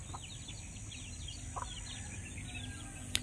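Native chickens and roosters on a free-range farm cluck and chatter softly at a distance over low background noise, with a brief sharp call near the end.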